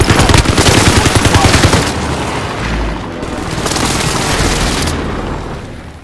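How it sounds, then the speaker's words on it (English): Rapid gunfire bursts from an enemy precision airstrike in a shooter game, then heavy booming explosions that rumble and fade, with scattered low thuds and no clear talk. "Enemy precision airstrike."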